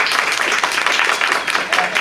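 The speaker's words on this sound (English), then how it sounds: "Can we get a round of applause?" An audience bursts into applause after a talk at an Americans for Prosperity event, a dense, continuous patter of many hands clapping close and loud for a couple of seconds.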